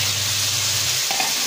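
Chopped tomatoes sauté in a pan with softened onions and salt for tomato thokku, a steady close sizzle with stirring scrapes and a brief clink near the end, no voices.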